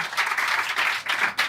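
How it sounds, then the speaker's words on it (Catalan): A small audience breaks into a short burst of applause, with dense clapping that pulses over about a second and a half. The clapping is close and fairly loud, with no voices over it. "Un aplaudiment!"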